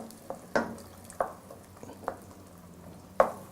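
Sweet potato okra masala simmering in a pot, with a soft steady bubbling bed broken by four or five sharp stirring clinks and scrapes at irregular intervals, close and fairly quiet, no voices.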